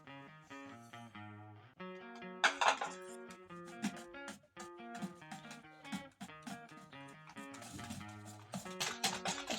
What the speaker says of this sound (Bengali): সুজিটা আমি মিক্স করে নিচ্ছি